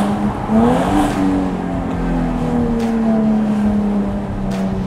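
A Jaguar F-Type sports car accelerates hard along an open road, its engine note rising and climbing in pitch as it pulls through the gears, loud and close from inside the car, with no talking.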